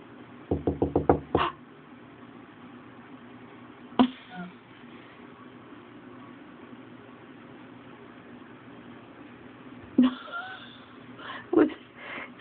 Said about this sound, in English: Was somebody knocking in there?